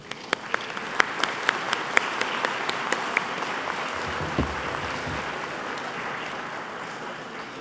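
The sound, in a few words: applause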